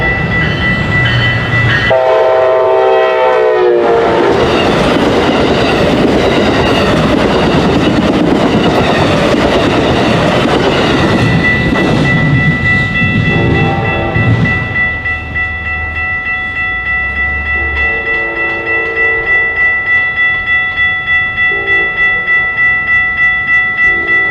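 An Amtrak passenger train rumbles past close by in Oceanside, California, its horn blaring in long loud blasts over steady clattering wheels, fading into a lingering whine.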